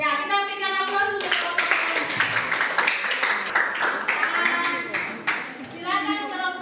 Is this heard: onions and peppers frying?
no